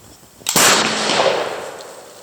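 A 15th-century snapping matchlock gun fires with a single sharp, loud report, followed by a rushing burst that decays over about a second and a half.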